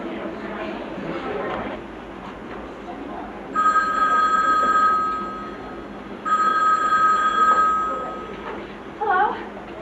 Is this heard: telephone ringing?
yes